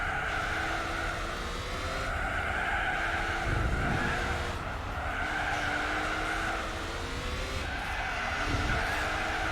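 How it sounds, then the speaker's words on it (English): A race car's rear tires skid under a held handbrake in Gran Turismo 4 on PS2, giving a loud, sustained wavering squeal over engine drone that swells and dips in several long waves. "I wonder how much wear I'd do on the rear tires if I was to hold my handbrake down for quite a little bit."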